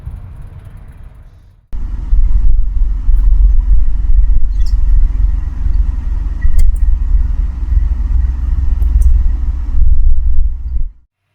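A 2008 BMW E83 with a vibration from the rear differential is driven on a test drive, a loud, steady low road rumble and engine drone that starts abruptly after a quieter stretch and cuts off at the end.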